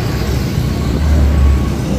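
Evening traffic flows in both directions on Jalan Perintis Kemerdekaan near Jembatan Dayak in Makassar, a loud continuous roar of passing vehicles with a low rumbling swell midway.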